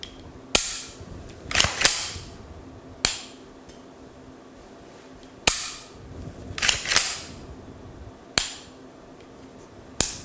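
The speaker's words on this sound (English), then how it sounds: "There's still some more slack in that reset, but you know exactly when you're out of it, you can pull the trigger again." A LaRue Tactical MBT-2S straight-bow rifle trigger is pulled and reset, giving sharp, close metallic clicks that come singly and in quick pairs, with quiet gaps between them.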